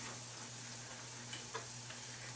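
An omelet with already-cooked bacon sizzles in a frying pan, a soft, steady hiss with faint crackles and a low background hum, quiet and continuous without talking.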